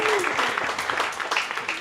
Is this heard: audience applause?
yes